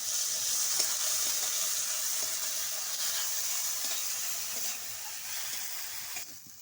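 Chopped ginger and green chilli fry together in a pan for capsicum chop filling, making an even, moderate hiss with faint crackles that fades toward the end, without any voices.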